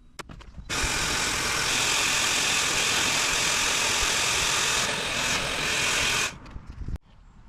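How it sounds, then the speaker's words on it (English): Electric air pump inflating the bladder of an inflatable hot tub cover for a Saluspa Bahamas spa, a loud steady whir that starts abruptly, holds for about five and a half seconds, then cuts off. "we're going to use the pump and we're going to inflate the bladder"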